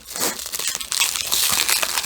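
Saran wrap on a mailed package crinkles and crackles as it is cut open, close, busy plastic rustling that grows louder toward the end.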